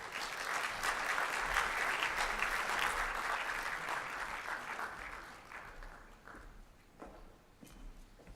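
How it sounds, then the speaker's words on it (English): Dense audience applause fills the hall at the opening session of a conference, loud and sustained for several seconds before thinning and fading into a few scattered claps. "A round of applause, if you would."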